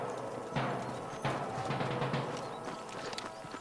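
Horse hooves clip-clop in a Red Dead Redemption 2 canyon scene, a few soft footfalls mixed into steady ambient game noise rather than standing out alone.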